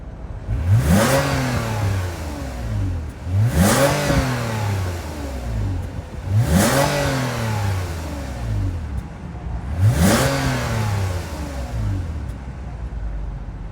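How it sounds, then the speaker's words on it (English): A 2024 Toyota Camry XSE with a 3.5-liter V6 is revved four times in a row, each blip rising sharply and falling back to a steady idle, loud and close with no talking. "Since we got the V6, let's hear how this baby sounds."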